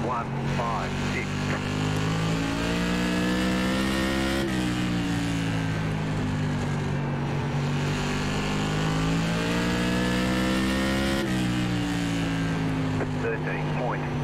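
Whelen Tour Modified race cars in an iRacing NASCAR race at Southern National, loud continuous engine drone with shifting pitch as several cars run close together on track.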